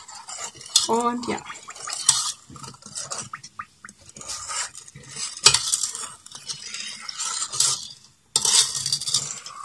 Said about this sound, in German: es rührt sich echt schwer, weil das ist ja schon eine Menge Zucker und so